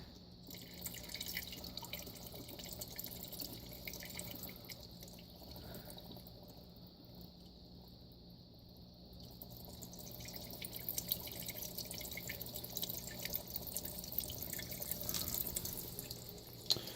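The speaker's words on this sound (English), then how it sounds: "Then I can let a gentle trickle down the back there." A small indoor water fountain in a laundry room trickles gently, a quiet continuous drip and splash with a faint steady hum underneath.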